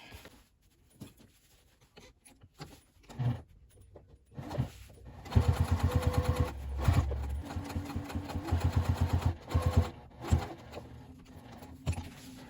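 A sewing machine stitching a memory bag starts after a quiet lead-in of fabric handling, then runs in several close, rhythmic bursts of whirring stitches with brief pauses between them.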